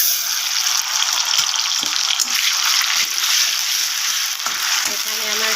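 Ground spice pastes of cumin, ginger, garlic and chili hit browned onions in a hot pan and set off a steady, close hissing sizzle that runs throughout, with a few soft stirring knocks while someone talks.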